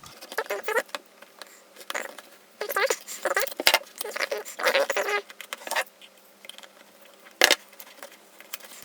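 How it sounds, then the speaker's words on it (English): Tabs on a GoPro Hero retail box being cut open, giving bursts of scraping, snipping and cardboard rustle in several clusters, with a sharp click near the end, close and fairly loud. "I'm just going to cut the tabs"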